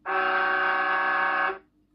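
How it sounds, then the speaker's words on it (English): A single loud, steady air horn sound effect blast lasting about a second and a half, bright and brassy, then cutting off abruptly, played through an RC vehicle sound system. "Let's get an air horn."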